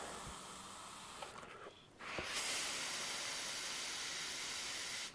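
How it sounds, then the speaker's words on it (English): A hot iron pressed onto a damp towel gives a sharp hiss of steam, then a sustained, fairly loud sizzle that cuts off at the end. "going over with a hot iron"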